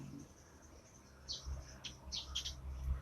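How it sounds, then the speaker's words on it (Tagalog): Birds chirp outdoors at a distance, with several short, faint tweets rising over a low background murmur of wind and ambient noise. "kung nakikita niyo po yung mga ibon doon"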